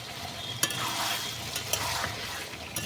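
Fried potato pieces tipped into a pan of sizzling meat and stirred, continuous close frying hiss punctuated by a few sharp scraping clicks of the spoon against the pan.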